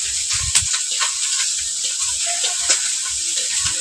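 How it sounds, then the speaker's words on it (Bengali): Fish fries in a pan in a village home kitchen, with a continuous loud sizzling hiss and occasional soft knocks and spatters underneath. "মাছগুলো ভেজে নিচ্ছি"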